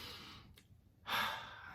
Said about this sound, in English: take a few deep breaths in through your nose,